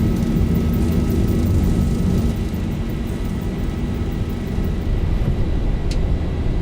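A simulated airliner rolls down the runway on its takeoff run, with a loud, steady engine roar and broad rumble that hold level throughout, close and continuous with no voices over it.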